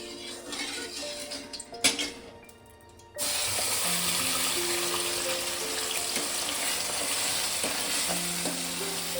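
Marinated chicken dropped into hot oil in a kadai, with a sudden loud sizzle that starts partway through and stays steady and close to the end, following quieter kitchen clatter.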